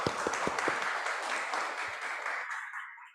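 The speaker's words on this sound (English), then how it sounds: "And I think we could give applause for Dr." Seminar audience applauding a speaker after a discussion on ethical considerations: a brief burst of clapping from a modest crowd, a few distinct claps standing out at first, then the sound thins and fades out to silence.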